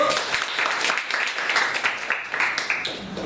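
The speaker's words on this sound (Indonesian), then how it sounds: "boleh tepuk tangan terlebih dahulu" A classroom audience applauds a student group after their performance, a dense burst of clapping that holds steady for a few seconds without any talk.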